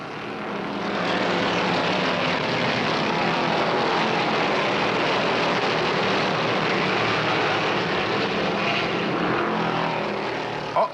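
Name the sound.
NASCAR stock cars racing at Riverside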